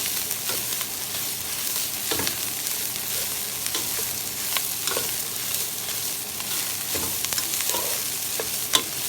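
Onions and drained sausage stirred in a pot as they fry, a steady low sizzle broken by scattered scraping clicks of a spoon, close and moderately loud, with no talking.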